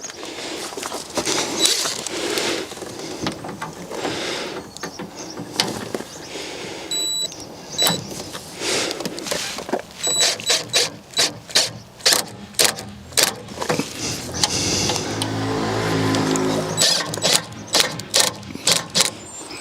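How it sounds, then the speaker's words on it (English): BMW 1 Series (E81, E82, E87, E88) front wing bolts being driven home with a power tool, bursts of close whirring and rapid ratcheting clicks, growing into a fast clatter later on. "Let's drive these last 2 bolts home."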